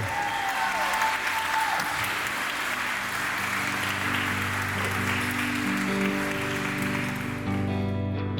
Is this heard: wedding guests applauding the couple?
yes